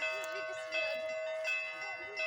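Church bells ring from a monastery bell tower during an Easter celebration, a layered peal of sustained metallic tones with repeated strikes, heard at a moderate distance, softly overlapping with nearby voices.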